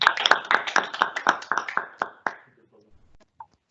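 Audience applause at a company presentation in an indoor lab venue: a burst of close, sharp hand claps that thins out and fades within about two and a half seconds, leaving near silence.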